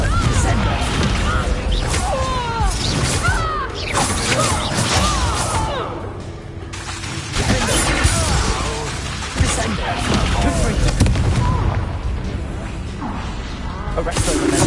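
Confringo spell blasts in a Harry Potter video game, crashing explosions and whooshing magic effects layered over busy combat noise, loud and nearly continuous, with speech heard throughout the fight.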